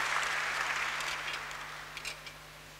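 Church congregation applauding during a Sunday service, a steady broad wash of clapping that gradually thins and fades, with a few scattered louder claps near the end.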